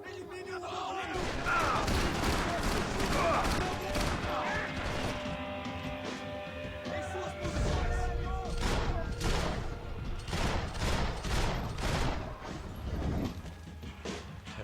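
Dual pistols in the Max Payne 3 video game fire in rapid, sharp bursts amid crashes and loud action, with a voice talking over parts of it.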